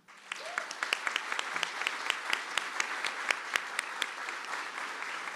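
A sparse crowd claps at a university building's grand opening in Fort Worth, with distinct individual claps standing out over a steady patter of applause at moderate distance.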